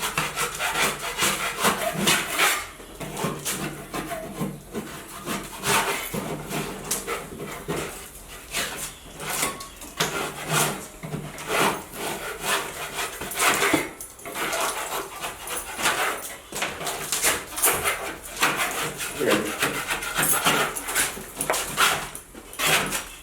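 Loose, damaged drywall paper being scraped off a wall: continuous rough rasping strokes, steady and close, repeating with little pause.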